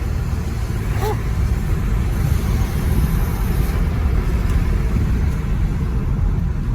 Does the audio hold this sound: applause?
no